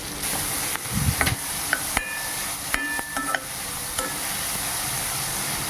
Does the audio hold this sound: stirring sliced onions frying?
yes